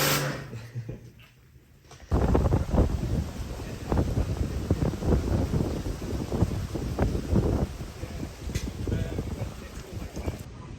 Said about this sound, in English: it's a wild and windy afternoon